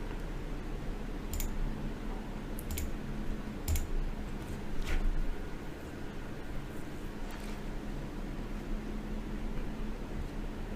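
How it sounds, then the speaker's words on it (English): Mouse clicks while working through VirtualBox installer prompts on a computer, a handful of sharp, isolated clicks spaced a second or so apart over steady faint hiss. "So just going through the prompts and clicking yes for everything."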